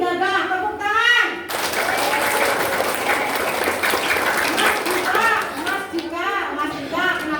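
A group of children at a school anti-bullying talk claps in a burst of applause lasting a few seconds, with children's voices and an adult speaking just before and after.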